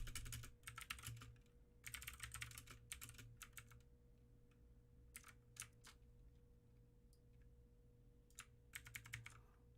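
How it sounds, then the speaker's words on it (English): Bursts of fast keyboard typing come in clusters with short pauses, close and clear over a faint steady hum. "it's going to be a problem because of our typing"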